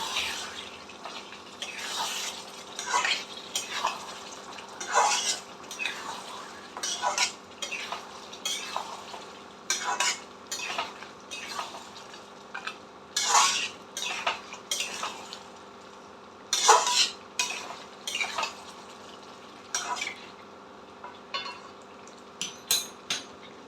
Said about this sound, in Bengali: আর দিচ্ছি একটু সামান্য পরিমাণে এই পিঞ্চ কসুরি মেথি দিচ্ছি। দিয়ে আবার এটাকে কষতে হবে।